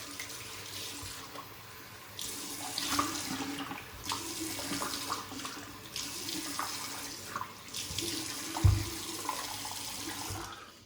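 Tap water running into a sink while a face is splashed and wetted before a wet shave, a steady close gush broken by irregular splashes and handfuls of water, with no talking.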